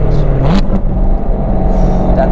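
Manual C7 Corvette Z06 driven on a track, its engine heard from inside with a loud, steady droning exhaust and a brief rise in pitch as it downshifts.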